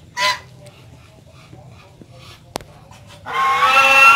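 Muscovy ducks in a cleaned breeding pen eagerly eating feed, close with brief honking calls and pecking over low background noise, then a louder burst of eating and splashing at the end.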